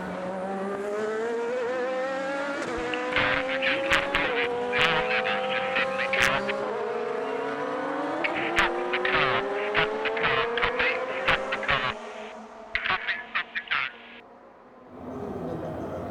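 A Drayson Racing Le Mans race car screaming past on a qualifying lap, engine pitch rising and falling through gear changes, loud and close before fading away near the end.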